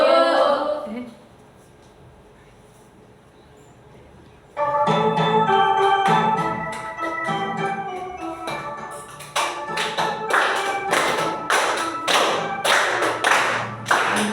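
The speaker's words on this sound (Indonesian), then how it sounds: "Nyanyi sambil tepuk tangan ya." A school class stands and claps along to a song. After a brief quiet pause, rhythmic clapping comes in sharp and close, mixing with children's and a teacher's voices and growing louder toward the end.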